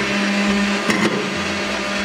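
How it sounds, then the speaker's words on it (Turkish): A kitchen oven being closed and switched on while a cake with raisins bakes, giving a steady close mechanical hum with a brief double click partway through. "Güzelce fırınımızı kapatalım ve çalıştırmaya başlayalım."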